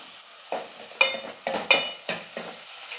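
Onions and tomatoes with curry leaves sautéing in a pan for a Tamil brinjal, drumstick and peanut kuzhambu, heard as a quiet background sizzle broken by several short bursts of stirring and scraping at a fairly steady rhythm.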